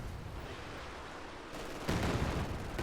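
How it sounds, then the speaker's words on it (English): Katyusha rocket barrage in a World War II real-time strategy game, a continuous dense roar of launches and blasts that swells louder partway through, with no talk over it. "Katusha's 4 salvos of its barrage is so brutal"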